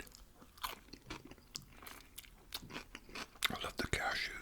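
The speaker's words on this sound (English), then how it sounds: "Got a big leaf here. This is a very good salad." Close, quiet crunching and chewing of a leafy salad with cashews, irregular crisp bites and wet mastication sounds in soft ASMR style, with faint whispered talk.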